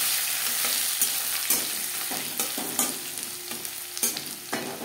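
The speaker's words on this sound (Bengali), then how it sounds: "দশ 15 সেকেন্ড লঙ্কার সাথে কালো জিরে ভেজে নেওয়ার পর দিয়ে দেব রসুন" Half a medium head of crushed garlic tossed into a pan of chillies and black cumin frying over low to medium heat, with a constant sizzle broken by repeated clattering scrapes of a stirring spoon.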